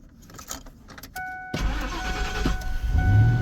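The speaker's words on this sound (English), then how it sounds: "I'll go ahead and start the truck and show you something." A 1997 Ford F-150 pickup with 226,000 miles starts up in the cold: a brief electronic chime, then the starter catches and the engine rumbles into a steady, close idle.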